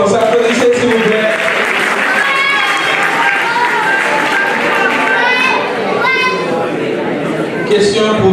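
Audience applause and cheering at a live Haitian quiz show in Paris, loud and sustained, mixed with crowd noise, shouts and voices throughout.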